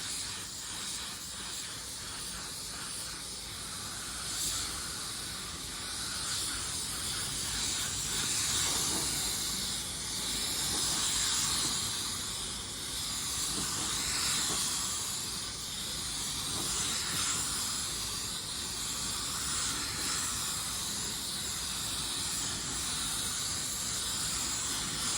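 A spray gun set to 22 psi with fan and fluid wide open lays a coat of paint on a car panel, giving a steady, close hiss that runs unbroken for the whole stretch with slight swells as each pass is made.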